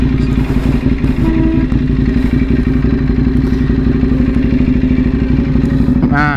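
A motorcycle is ridden at steady speed, its engine droning loud and continuous with a throbbing mid-range tone, wind rush over the top and a short rising rev near the end.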